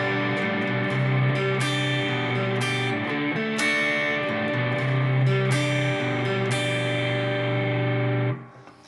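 An electric guitar with distortion plays a chorus riff, loud, crunchy chords in a driving rock rhythm with sharp accented strums, ending in a brief fade to silence.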